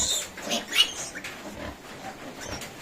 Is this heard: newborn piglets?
yes